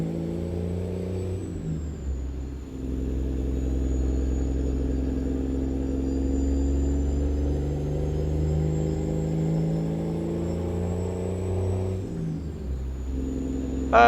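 A heavy-haul truck engine in a truck-driving video game drones steadily with deep low rumble and a faint turbo whine above, turbo sound turned up high, easing off briefly near the start and end.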